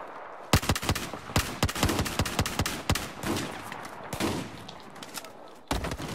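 Battlefield 4 gunfire crackles in sharp, rapid shots and ragged automatic bursts, loud and close, with a sustained exchange through the middle and a final burst after a short pause.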